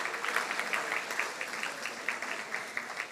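Audience applause at a formal dinner event, a steady dense patter of many hands clapping at moderate distance, continuous for the whole moment with no talk over it.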